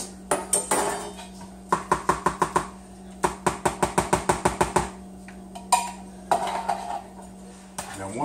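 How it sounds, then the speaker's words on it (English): A big spoon stirs vegetables for a turkey pot pie in a bowl, making rapid runs of sharp clinking and scraping against the dish in bursts with short pauses, close and clear, without speech. "we're going to get us a bigger spoon. And we're going to mix this shit up"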